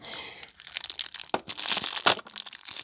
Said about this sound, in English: It does come in a plastic bag, which I can't tear because I'm weak.